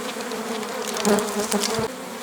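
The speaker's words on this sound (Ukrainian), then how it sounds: "І ви бачите, як бджілка нервує" Agitated honeybees buzz around an opened hive on a cool, overcast day, a close, dense humming drone with swelling louder passes as individual bees fly near.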